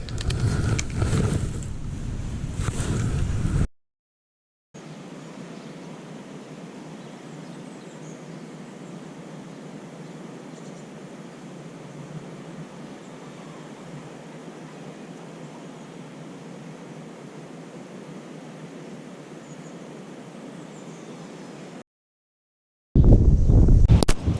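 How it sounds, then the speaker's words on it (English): Strong wind blows across a lakeside fishing swim in January, a steady rushing roar that holds for about twenty seconds, with louder, heavier gusts at the start and end. "You can see that wind's really got strong now."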